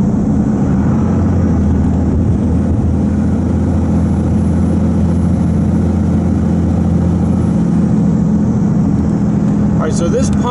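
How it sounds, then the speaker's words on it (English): A Dodge Ram 2500 with a 24-valve Cummins turbo diesel pulls at full throttle up a steep hill, a loud, steady low drone and road roar that holds for about ten seconds without letting up, with no talk over it. "I'm going to basically give it full throttle up this steep hill"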